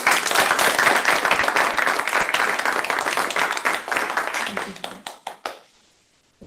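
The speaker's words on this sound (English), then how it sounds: "Maybe a round of applause" Audience applause following a doctoral dissertation defense, sustained dense clapping that thins into scattered claps and fades to near silence at the end.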